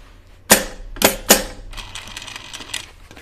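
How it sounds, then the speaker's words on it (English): A sewing machine edge stitches a turned-under hem on fabric. Three loud mechanical clacks open the clip, followed by a quieter, fast, even rattle of stitching close by. "I'm going to turn this under and edge stitch it"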